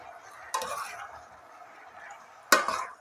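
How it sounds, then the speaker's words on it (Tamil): Chicken karahi with salt and spices stirred in a pan, with two brief, sharp scraping clatters of a utensil about two seconds apart over a quiet background. "ஜஸ்ட் கொஞ்சம் கிளறி கொடுங்கணும்."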